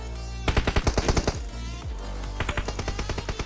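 Rapid automatic gunfire in the mobile battle royale game PUBG Mobile, two close, loud bursts of repeated shots separated by a short pause, with no speech over them.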